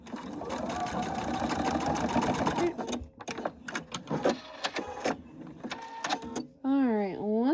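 A sewing machine stitches close up, first with a continuous whirring run and then with a series of short stop-start bursts of needle chatter.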